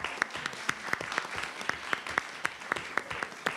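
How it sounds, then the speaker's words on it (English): Audience applause at a county equity committee meeting, a steady wash of many hands clapping with sharp individual claps standing out, sustained throughout at moderate volume with no talk over it. "Everyone's clapping."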